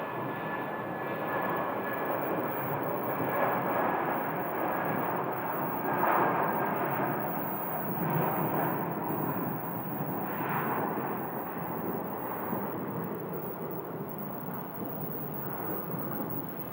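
An American Airlines jet departing Phoenix airport, a steady broad engine roar heard from a distance that holds evenly with slight swells throughout, with no talking.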